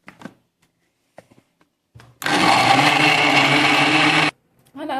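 A blender grinding carrots and water into juice, starting abruptly and running loud and close for about two seconds before cutting off, with only small faint noises around it.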